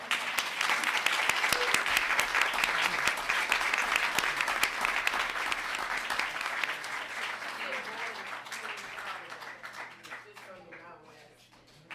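A city council meeting audience claps for Dr. Douglas after a proclamation, a loud, dense round of applause that holds steady, then tapers into a few last claps near the end as faint talk begins.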